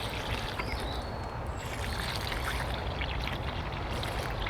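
Water trickles and pours from a can onto soil around freshly planted leek roots in a wet June garden, a soft continuous splashing close by with no talk.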